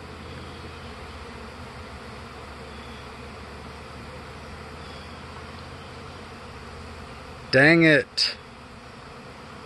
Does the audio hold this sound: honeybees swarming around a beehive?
yes